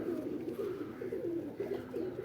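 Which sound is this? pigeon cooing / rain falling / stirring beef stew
pigeon cooing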